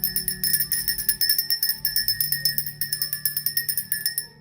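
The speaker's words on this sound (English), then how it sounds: "All right, ring that bell." A small bell rings rapidly and repeatedly with bright metallic tones, a steady rhythmic jingle lasting several seconds, loud and close.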